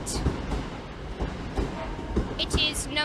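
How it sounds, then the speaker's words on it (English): A Northern Class 323 electric train pulls away from a platform at a station, its rumble and rhythmic wheel knocks mixed with station noise and passing voices, with a brief squeal near the end. "a Northern Class 323 bound for Alderley leaves platform 8"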